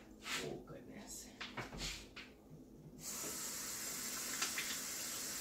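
Tap water runs steadily into a kitchen sink while hands are washed after massaging marinade into raw chicken, a continuous hiss following a few bumps and knocks, with talk before the water starts.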